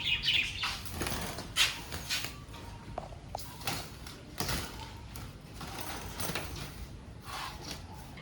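Birds flutter and flap their wings in a cage while it is sprayed with odour-removing EM solution, with scattered faint chirps and rustling over a steady background hiss.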